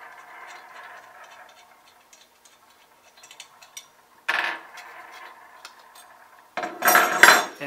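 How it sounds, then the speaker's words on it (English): Thumb screws being taken out of a flash speed ring: small metallic clicks and light taps, quiet and sparse, then two louder clattering scrapes of metal parts near the end, close by with no voices. "I'll take these thumb screws out."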